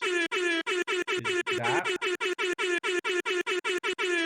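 Repeated air horn blasts, loud and close, fired in a rapid stuttering series of short bursts with one longer honk in the middle, over a brief spoken word.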